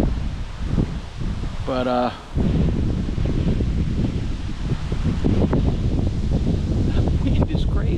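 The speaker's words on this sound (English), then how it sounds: "the wind is crazy, dude" Strong, gusty wind roars across a lake beside a 12-foot Saturn heavy-duty fishing boat, a steady loud buffeting on the microphone throughout, with someone speaking briefly near the start.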